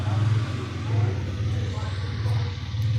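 A Hero Xtreme 250 motorcycle engine produces a steady, close, low exhaust drone that swells and eases slightly, as if at idle with light throttle blips. No one speaks.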